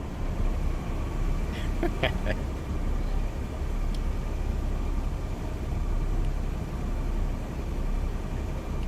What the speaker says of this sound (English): Nice little compressor noise.